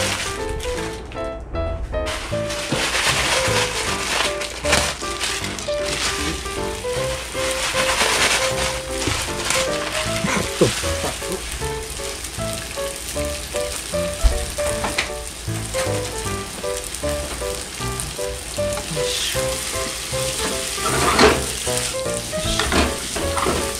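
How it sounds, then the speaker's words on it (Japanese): Oisoya yakisoba noodles shallow-fry in a generous pool of oil with a dense, loud, crackling sizzle. Frequent tapping and scraping from the utensil turning them runs through the whole stretch. "大磯屋の焼きそばを揚げ焼きにしていきます"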